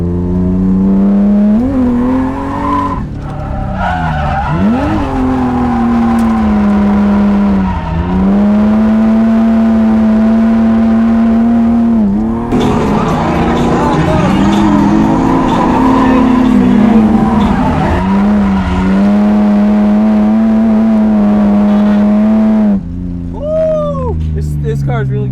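A BMW E30 race car laps a track at its first event, its engine droning loud and close inside the cabin with revs rising and falling, while tires squeal through corners and people talk over the noise.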